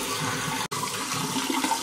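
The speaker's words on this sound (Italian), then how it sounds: "Adesso faccio uscire un po' l'acqua calda." Hot water running steadily from a tap while waterproof mascara is tested, a close, continuous rushing splash with one brief cut partway through; no talking.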